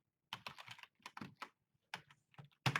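Keys clatter on a computer keyboard as someone enters a formula in an Excel spreadsheet, a close run of quick crisp clicks in short bursts with brief pauses.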